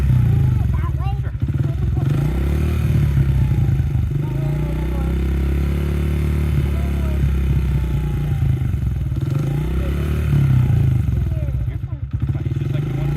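A child's dirt bike engine runs loud and steady while in gear, with a rough, close rumble and some slight shifts in pitch. People talk over the engine.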